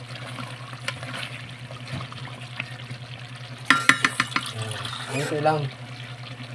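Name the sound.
adding a little water to pork humba while cooking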